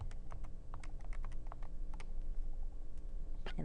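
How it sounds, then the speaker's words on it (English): Fingers tap a series of quick, light, irregular clicks on calculator keys while entering numbers for an algebra problem, close up and fairly quiet against a faint room hum. "So if we type that into our calculator"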